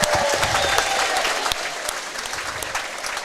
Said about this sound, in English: Just a little round of applause